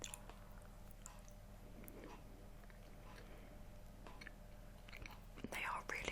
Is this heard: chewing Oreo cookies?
yes